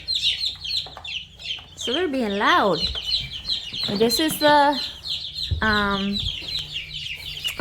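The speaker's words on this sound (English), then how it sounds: "I hear the chicks. They're going crazy." Chickens cluck and squawk loudly up close, with rising calls repeating over a steady chorus of high peeping chicks and a brief voice.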